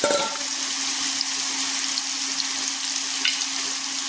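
Mushrooms frying in hot oil in a pan on an induction cooktop, a loud, steady sizzle that starts with a sharp burst as they go in and then crackles on continuously, close by and with no talking.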